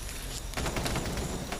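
Distant gunfire in a rapid, continuous burst of shots, steady and moderately loud with no talk over it.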